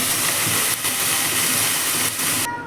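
Ground masala paste dropping into a hot pan for paneer matar masala, a loud, steady close sizzle that hisses without a break and cuts off abruptly at the end.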